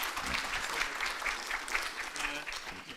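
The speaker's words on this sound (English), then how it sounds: "A round of applause." Conference audience applause, a dense, even wash of clapping from a sizable crowd in a hall, steady and moderately loud for the whole stretch.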